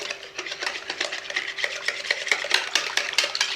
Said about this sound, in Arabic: نحاولوا ندخلو هاد الملح والابزار في هاد البيض والزيت